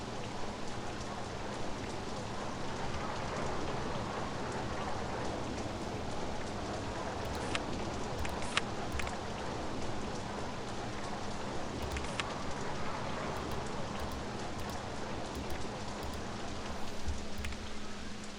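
Steady rain pours down in the OpenRCT2 theme park game, a continuous even hiss that fills the whole stretch with no voices, with a few faint higher ticks poking through now and then.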